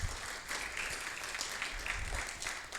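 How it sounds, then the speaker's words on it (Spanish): A church congregation applauds during a Spanish-language sermon, with steady, soft clapping that sounds somewhat distant and continues for a few seconds. "denle el aplauso al Señor"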